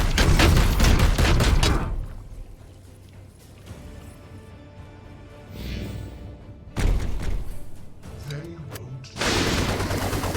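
Gunfire in the tactical game Chaos Gate: Daemonhunters comes in loud, dense bursts at the start, again near the middle and at the end, with a quieter stretch of low rumble and faint effects between them.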